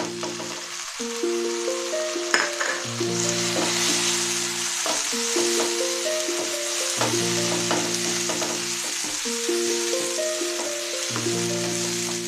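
A whole tomato drops into a pan of mutton masala with sugar, setting off a loud, steady sizzle and frying crackle that runs throughout, with faint stirring and background music underneath.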